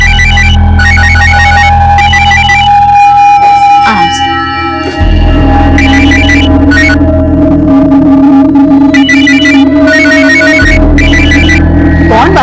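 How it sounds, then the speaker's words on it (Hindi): Telephone ringtone sounding in repeated electronic bursts over a loud background of sustained tones and music, the ringing pattern recurring several times across the span. "कौन बार बार फोन कर रहा है?"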